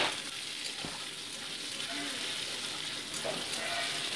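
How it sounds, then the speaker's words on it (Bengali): Chopped onions frying in a pan with cumin seeds for an egg curry, a steady broadband sizzle running throughout at close range, with a few faint stirring clicks. "মোটামুটি আমি 2 মিনিট ভালো করে ভেজে নিচ্ছি"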